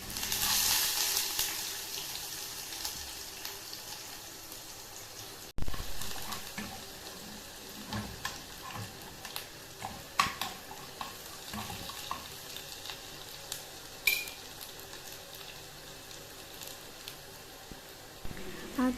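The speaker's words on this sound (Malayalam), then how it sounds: "പിന്നെ അതിലേക്ക് ഇഞ്ചിയും വെളുത്തുള്ളിയും ചേർത്ത് അത് നല്ലോണം അത് മൂത്ത് വരുന്ന ശേഷം" Ginger and garlic fry in hot oil with mustard seeds in a pan, a quiet, steady sizzle with occasional stirring clinks and small pops.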